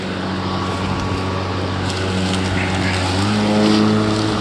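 Stihl RMA510 battery lawnmower cutting thick grass, a steady close motor whine that rises in pitch as it speeds up, with a voice speaking faintly underneath.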